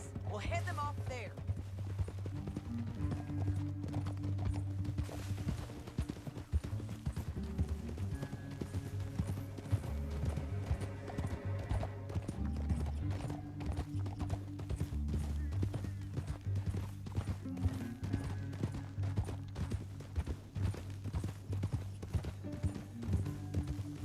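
Rhythmic clip-clop of horse hooves galloping continuously in Red Dead Redemption 2, over a low droning music bed, steady and close for the whole stretch.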